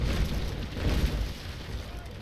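Cannons firing from a sailing ship in the naval battle game Naval Action, Basic Cutter against Rattlesnake: heavy, loud booming blasts with rolling rumble, two swells of roar merging across the stretch.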